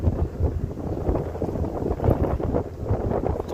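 Wind buffets the microphone on a boat on the River Thames, a low rumbling roar that gusts unevenly throughout without speech.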